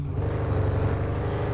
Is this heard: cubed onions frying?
no